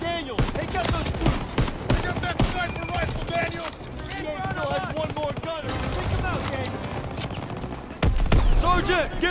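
Call of Duty WWII gunfire in a Normandy battle during Operation Cobra against Pak gun crews: rapid automatic bursts and sharp rifle shots crackle continuously, growing heavier near the end, while voices shout over the fighting.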